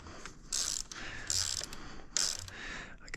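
A ratchet tightens titanium bolts during a Mako 360 install, making three short bursts of rapid clicking spaced about a second apart, close and fairly quiet, with no talk.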